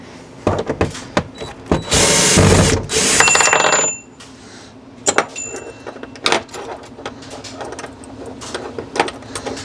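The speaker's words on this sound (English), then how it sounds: "let me start taking this hardware off. And I need to save those screws" Hardware screws being removed with a power driver during injector organizing work: a loud whirring burst of a couple of seconds, then scattered clinks and rattles of small metal parts, close by, without talk.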